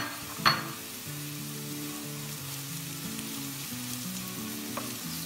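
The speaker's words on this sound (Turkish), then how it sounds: "Soğanlarımızla birlikte güzelce bunları kavuralım." Red peppers and onions sizzle and fry steadily in a hot pan, with a soft clink of a utensil near the start; background music plays faintly underneath.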